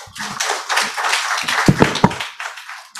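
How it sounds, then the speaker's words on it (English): Applause from an audience at a training programme, a burst of clapping with a few sharp individual claps standing out, close and moderately loud, fading near the end. "big round of applause again and again"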